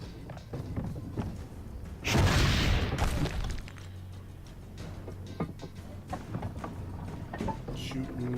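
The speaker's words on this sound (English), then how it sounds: "Shooting cannons." A heavy booming cannon blast in Assassin's Creed Brotherhood bursts out loud, followed by a lower rumbling shot, with game effects and a voice murmuring around them.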